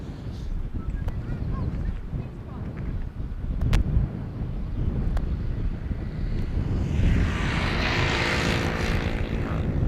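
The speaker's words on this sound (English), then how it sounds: "First flight is going to be an E2 Embraer 195 inbound from Aberdeen." An Embraer E195-E2 airliner arriving at Amsterdam Schiphol runway 18R: a steady distant jet rumble that grows into a louder whining roar over the last few seconds as it approaches, with faint wind noise.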